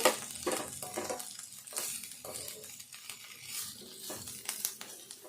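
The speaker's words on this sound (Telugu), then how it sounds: "ఈ ఉల్లిపాయ ముక్కలు కొంచెం మూత పెట్టుకొని కొంచెం దూరగా వేగదాకా వేపుకోవాలి" Onion pieces fry in a pan for a spicy onion gravy with bitter gourd, a soft continuous sizzle with light scraping and clinks of stirring, fairly quiet and close, with no voices.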